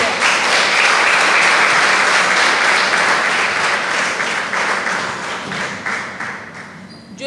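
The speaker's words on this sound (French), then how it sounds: "pour remercier et acclamer chaleureusement Sidi" An audience claps warmly and steadily for Sidi El Medi Al Baka at a guest-week event at ISPRIC, forming a dense, continuous applause that eases slightly near the end.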